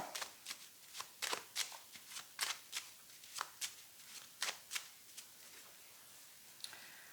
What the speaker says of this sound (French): on va recouvrir les cartes qui ne nous plaisent pas